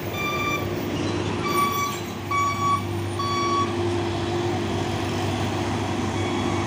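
A Hino 500 truck on a road makes a steady engine drone, joined by a series of evenly spaced high electronic beeps that repeat through the first half.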